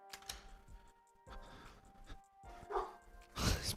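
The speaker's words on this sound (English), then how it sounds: "He's barking at me." A dog barks a few times nearby, sharp yips and woofs spread across a few seconds amid some background noise, with a louder burst near the end.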